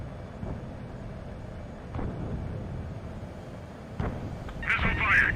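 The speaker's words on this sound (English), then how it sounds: "Missile fired." Several muffled, booming thumps in Ace Combat 7 mark a missile launch amid jet cockpit noise, with a brief bright warning tone near the end and radio-style voices talking underneath.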